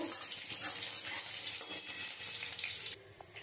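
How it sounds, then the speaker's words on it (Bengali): Black cumin seeds sizzle and crackle in hot oil, a bright steady frying hiss that cuts off sharply near the end. "আমি এর মধ্যে কালো জিরেটাও দিয়ে দেবো। আমি একটু লাল লাল করে ভেজে নেব।"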